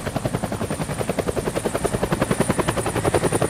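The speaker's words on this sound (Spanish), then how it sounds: "That's the helicopter chasing my friends." Helicopter in the video game Deadlight, its rotor thudding in a fast steady pulse, loud and close, with no talking over it.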